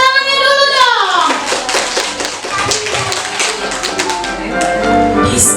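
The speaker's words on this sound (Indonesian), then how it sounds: "Tepuk tangannya dulu dong" Children clap their hands in a classroom, a dense rapid patter of many small hands, with young voices calling out over it at the start and the clapping continuing steadily throughout.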